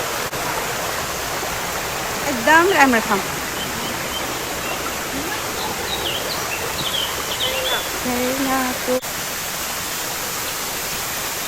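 A waterfall and stream on a hiking trail near Mui Wo, Hong Kong, make a constant broad rushing hiss of flowing water, with a few bird chirps and someone speaking briefly.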